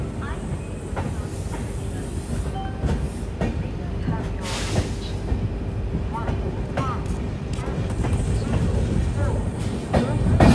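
An Amrit Bharat Express train of the Southern Railway's Madurai division, bound for Tiruchirappalli, rumbling steadily with clattering wheels and occasional squeals, growing slightly louder toward the end.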